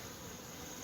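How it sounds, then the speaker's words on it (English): Bees in flight around beehives outdoors, heard as a faint, steady, even buzzing drone with no break or voices. "Bunch of bees floating in the air right now."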